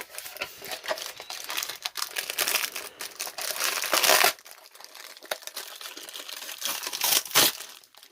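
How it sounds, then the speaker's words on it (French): Instructions and sticker sheets pulled from Beyblade box packaging, with steady close crinkling and crumpling of paper and plastic that swells into louder rustling bursts. "On enlève les instructions et les autocollants."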